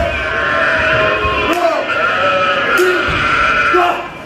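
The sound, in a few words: people imitating sheep bleating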